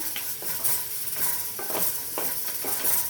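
Chili pieces frying in oil, stirred with a spoon in a pan: steady close sizzle with repeated scraping stirs at an irregular rhythm, no talking.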